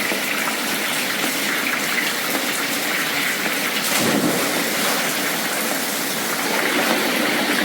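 Steady, dense rush of a heavy tropical downpour on Koh Samui, Thailand fills the whole clip, a loud broadband wash like gushing water, with no voices.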